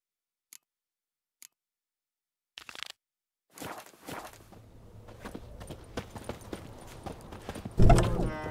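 In The Witcher 3, a few isolated hoof taps break the silence before a horse starts walking, its clip-clopping hooves settling into an even, close rhythm and getting louder, with a heavier thump near the end.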